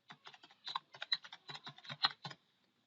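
Quick bursts of close, crisp computer keyboard typing while a task name is entered, heard alone with clicks in an irregular run that stops near the end.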